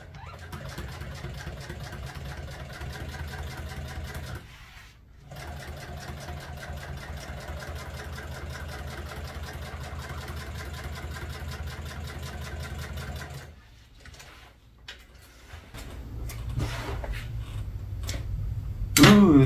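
A sewing machine stitches a fine upholstery seam for classic car tuck-and-roll. It makes a steady, close mechanical whirr in long runs, breaks off briefly twice, and ends with a few louder knocks and handling sounds.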